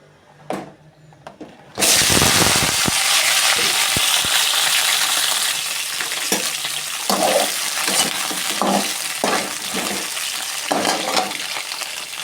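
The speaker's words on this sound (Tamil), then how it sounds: "வானலில் நல்லெண்ணெய் ஊற்றிக்கலாம் இது நல்லா சூடானதுக்கப்புறம் கத்திரிக்காயை போட்டு நல்லா வதக்கு" Whole brinjals drop into hot sesame oil in a pan and burst into a loud, steady sizzle. The frying hisses continuously, with intermittent stirring clinks and knocks throughout.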